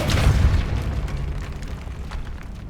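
Depulso force spell cast in Hogwarts Legacy within a decayed catacomb, a loud booming blast that rolls into a long, fading rumble with no voices.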